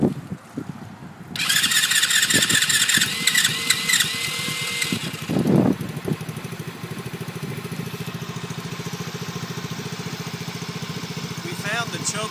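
Four-wheeler ATV engine cranking with the choke, giving a loud squealing starter whine and then catching into a steady idle, with people talking nearby.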